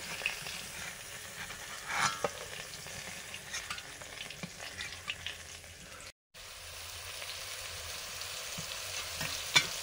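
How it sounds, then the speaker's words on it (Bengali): Slices of elephant foot yam fry in a pan with a soft, continuous sizzle, broken by occasional stirring scrapes and one brief dropout. "পরে ওল ভাজা করছি।"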